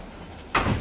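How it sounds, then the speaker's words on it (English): Door pushed shut indoors, a single sudden close thud that rings on briefly after a quiet room-tone lead-in. "I can shut the door"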